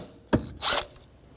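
Brief ratcheting scrape and metallic rasp of a 10mm socket wrench loosening an ignition coil mounting bolt on a Jeep Renegade engine, two short close bursts with quiet between.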